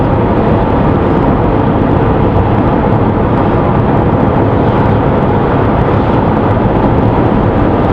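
A Ferrari 458 Italia's engine drives a loud, steady, dense roar that fills the whole stretch without letting up, with no speech over it.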